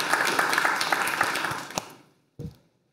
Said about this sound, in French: Je vous demande d'applaudir Philippe Prasque